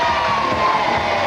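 Crowd of game show fans cheering and shouting together at Adventureland in Iowa, a loud, steady roar with no pauses across the whole moment.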